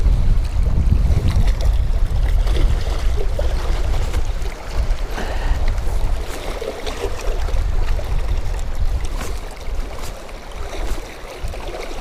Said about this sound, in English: The wind isn't helping me any.